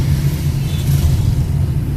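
Heavy road traffic jam from vehicles parked on a main road, a loud continuous low rumble of car and truck engines idling and moving close by, with no voices.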